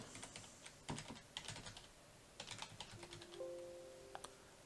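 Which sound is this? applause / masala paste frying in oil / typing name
typing name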